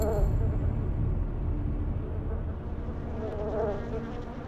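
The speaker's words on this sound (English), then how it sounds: "Yellow-jacket wasps were introduced to Hawaii accidentally" Yellow-jacket wasps buzz in a steady droning hum, close and continuous, with a low rumble beneath and faint background noise throughout.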